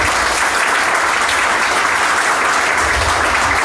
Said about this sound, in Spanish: Dele ese aplauso al que vive para siempre.